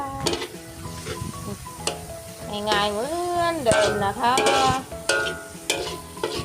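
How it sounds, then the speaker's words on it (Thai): Diced pork stir-fried with mild bell peppers and onion in a home kitchen, with a steady sizzle and stirring scrapes running under someone talking throughout. "ผัดพริกหยวกหมูชิ้นหั่นเป็นลูกเต๋านะจ๊ะ"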